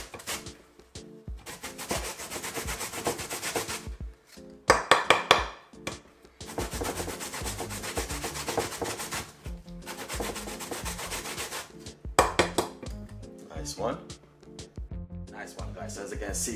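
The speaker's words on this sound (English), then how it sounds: "As you can see, I'm grating the two potato." Sweet potatoes are grated by hand for a Jamaican sweet potato pudding, making rhythmic rasping scrapes in bursts with short pauses and a few sharper knocks between strokes.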